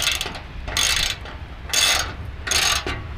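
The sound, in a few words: 12mm ratchet loosening bolts on a Toyota Tundra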